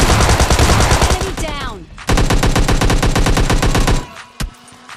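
Rapid automatic gunfire from PUBG Mobile Lite rattles loudly in two sustained bursts, each a dense string of close shots, ending with a single later report.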